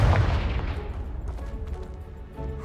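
A Confringo fire spell blasts in the video game Hogwarts Legacy, a loud booming impact at the start that rumbles and crackles as it fades over a couple of seconds.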